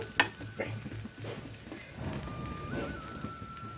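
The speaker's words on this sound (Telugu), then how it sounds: "ఈరోజు ప్లెయిన్ దోశ వేస్తున్నాను" Plain dosa batter fries on a hot pan in a home kitchen, giving a soft, low sizzle. A few faint scrapes and clinks of a utensil sound early on, and a quiet tonal hum runs underneath.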